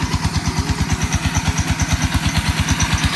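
A farmer's water pump engine runs on a cover-crop farm in Battambang, Cambodia, chugging close and loud with a fast, steady rhythm of low thumping pulses.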